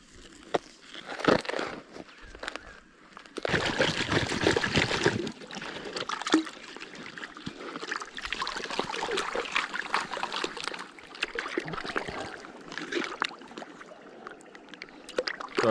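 Water sloshes and swirls steadily in a gold pan as dug material is washed outdoors, a continuous close watery rush with intermittent splashes and scraping over about fifteen seconds.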